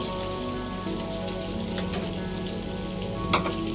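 Garlic poured into a hot pan while cooking shrimp gives a steady, close, rain-like sizzle and crackle, with a brief sharper spatter near the end.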